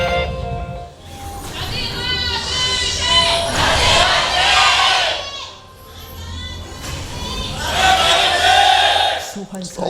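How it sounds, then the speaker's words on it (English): A large esports crowd at a 2015 League of Legends LCK match cheers loudly for the Anarchy team, with two swelling waves of shouting and cheering and a brief lull between them. "A lot of cheers for Anarchy."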